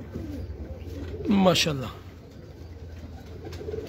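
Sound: pigeons cooing

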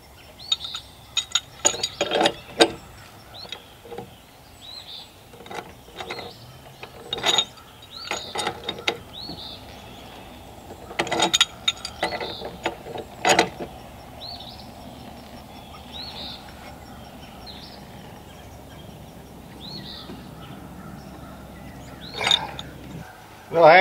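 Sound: screwing valve ends and reducers onto propane fittings

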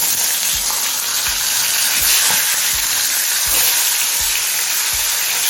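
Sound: hilsa fish heads frying in hot oil

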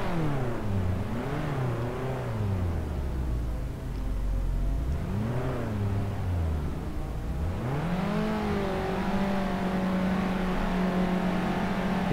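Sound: race cars starting at Nürburgring in video game Assetto Corsa

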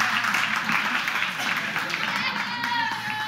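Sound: round of applause

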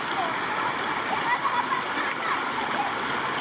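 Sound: children wading and splashing in a river

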